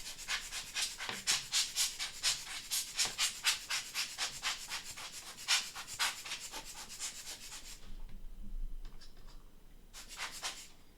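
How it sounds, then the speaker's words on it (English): A small handheld blower for camera gear puffs air in quick rhythmic bursts to clear plastic shards from an opened iPod Classic, a series of close breathy whooshes with a pause before a final few puffs. "I've got a little blower tool that I use for my camera equipment. I'm going to try to blow away a bunch of these plastic shards."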